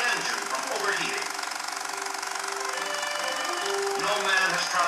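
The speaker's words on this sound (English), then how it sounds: "A mechanic is at the wheel of this racer, king of all roaring wheels, fastest car in the world." The engine of John Cobb's record-breaking racing car, run with ice packed around it against overheating, drones steadily and loudly throughout, a continuous mechanical roar with no break.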